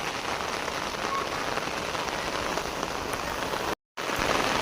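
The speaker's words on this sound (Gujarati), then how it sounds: "એકદમ જોરદાર વરસાદ ચાલુ થઈ ગયો છે પાછો" Heavy rain pours down steadily outdoors, a dense, continuous hiss of drops striking surfaces, loud and even throughout with a brief dropout near the end, and no voices.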